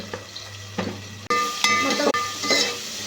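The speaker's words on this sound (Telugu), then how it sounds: "ఇప్పుడు మొత్తం ఒకసారి బాగా కలుపుకున్నామండి. ఇది ఫ్రై అవ్వడానికి కొంచెం టైం పడుతుంది కదా." Onions with salt fry in a pan while a spoon stirs them, giving a close sizzle broken by scraping strokes and metallic knocks; a voice speaks briefly.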